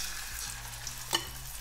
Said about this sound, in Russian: И уже на хорошо разогретую сковороду выкладываю курицу.